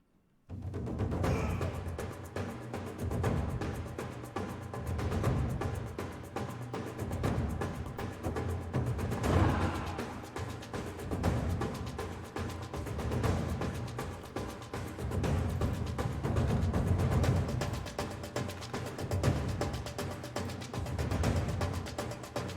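Heavy taiko drums pound out a driving rhythm with shouted voices mixed in, dense and loud from start to finish.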